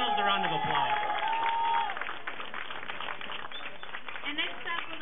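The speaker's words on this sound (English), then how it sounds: "And give yourselves a round of applause." Applause and cheering from a crowd at an Immigrant Family Day rally at San Francisco City Hall, a steady clapping wash that fades somewhat after the first couple of seconds, with a voice speaking over it.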